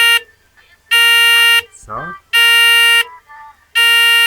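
A burglar alarm siren in a home-built alarm project sounds loudly in three steady, high-pitched electronic blasts after a door is opened, with a voice speaking briefly between the blasts.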